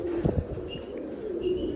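Pigeons cooing close by, soft repeated throaty coos rolling in short phrases with faint chirps above, steady and moderately quiet with no talk.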